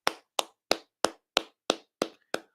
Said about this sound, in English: And I have to give him a round of applause.